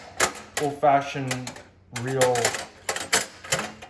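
An old mechanical thrift-shop machine that works like a cash register or typewriter gives sharp, rapid clacks and keystrikes, close by and mostly under a person talking.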